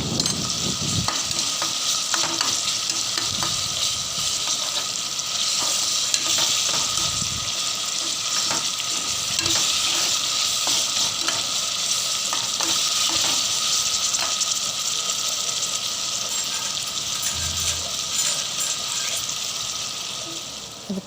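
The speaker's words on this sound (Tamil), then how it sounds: "தக்காளி வெங்காயத்தோட கலர் சேஞ்ச் ஆகிற அளவுக்கு நல்லா வதக்கணும்" Tomatoes and onions sautéing in a pan for mutton biryani cooked in a pressure cooker, with a steady loud sizzle and frequent stirring scrapes throughout, no voices.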